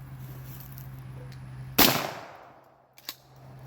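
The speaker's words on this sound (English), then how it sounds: "we're once again going to shoot birdshot through it because I don't want to be too rough on this one" A Remington 870 Wingmaster 12 gauge shotgun fires a single loud birdshot blast outdoors, a sharp crack that decays over about a second, followed by a faint smaller pop.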